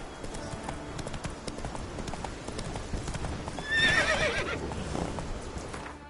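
Horse hooves clip-clop at a steady trot in The Witcher 3 on PS4, with a loud whinny rising midway; no talking.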